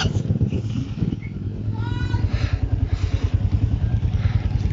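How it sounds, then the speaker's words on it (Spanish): A motorcycle carrying riders putters along with a low, rhythmic engine thump, close and fairly loud, as people talk over it. "Vamos a dar una última subida aquí en la moto"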